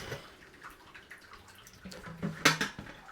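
The last rinse water trickles and drips out of the tap of a home-brewing kettle while Christmas beer is being made, with a few light metallic clinks and a brief louder splash near the end, close and fairly quiet.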